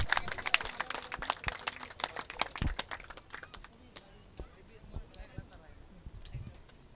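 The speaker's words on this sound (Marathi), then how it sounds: "चला एकदा टाळ्या वाजवा जोरदार मित्रांनो स्वप्नील साठी" Audience clapping for a player named Swapnil at a prize-giving ceremony for a cricket tournament, a burst of scattered applause that thins out and fades into sparse claps with background murmur.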